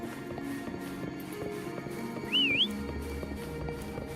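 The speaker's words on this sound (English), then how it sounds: "Why don't you call Foam over? Try whistling." A single rising-and-falling whistle calls the horse Foam in a video game, sounding over ambient music and soft hoof clip-clop, briefly louder than the steady background.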